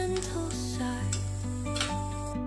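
Masala spices roasting in a pan are stirred with a utensil, giving soft scraping and faint sizzling over a steady low kitchen hum, quiet and close, with no talking.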